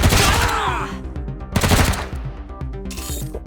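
Gunshots in the game Wasteland 3 come in loud sharp bursts, a rapid volley at the start and another about halfway through, with a shorter crack near the end, set over a steady droning game soundtrack.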